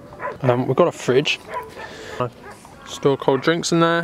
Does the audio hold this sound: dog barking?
yes